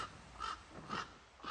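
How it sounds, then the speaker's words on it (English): Crows caw on an empty beach beneath high cliffs, three separate harsh calls spaced about half a second apart, moderately distant and quite faint, with no other sound besides soft background wind. "the empty beach and just the sound of the crows"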